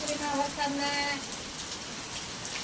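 Steady rain hisses throughout, a dense even wash of falling water, with a brief voice early on.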